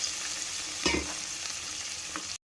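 Water hitting a hot pan of sizzling potato and pea curry, with a burst of hiss and spatter over a steady frying crackle, close and fairly quiet, ending abruptly.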